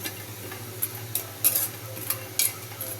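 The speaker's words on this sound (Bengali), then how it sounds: "একটু হালকা ভেজে নিলে ভালো হয় তাহলে গন্ধটা অত থাকবে না" Dried fish (shutki) frying lightly in a pan makes a soft sizzle over a low steady hum, with several sharp scraping clicks of a utensil stirring at irregular intervals, close and moderately quiet.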